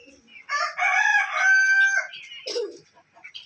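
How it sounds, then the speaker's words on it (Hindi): An Aseel rooster, an Aseel–Misri cross, crows once, loud and close, in a long drawn-out call, followed by a few softer clucks and scattered bird sounds. "ये मुर्गियाँ असील मुर्गी,"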